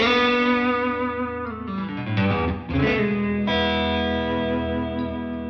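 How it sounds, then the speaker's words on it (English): Sustained electric guitar notes through a green tube distortion effect on a Headrush multi-effects pedalboard ring out loud and gritty, shifting pitch midway with a brief choppy break before settling into a held chord. "I need to delete and then add in some green distortion"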